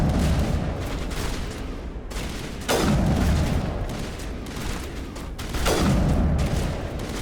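Rapid gunfire from a firefight in the PC video game Mass Effect (2007), dense bursts of shots rolling continuously across the whole stretch, with two heavier booming blasts standing out loudly above the steady clatter.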